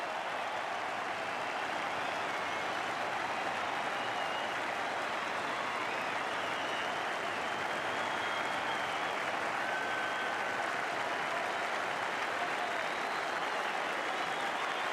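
Dense, steady applause from a large crowd at the Melbourne Cricket Ground after Brett Lee's first Test wicket, in an Australia vs India Test match in 1999-2000. The clapping roars evenly and a little distant for the whole stretch.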